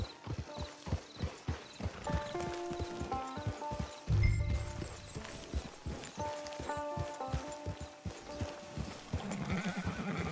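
Rhythmic clip-clop of horse hooves at a steady trot, with a loud horse whinny partway through and a brief ringing tone overhead, in the video game Red Dead Redemption 2 Online.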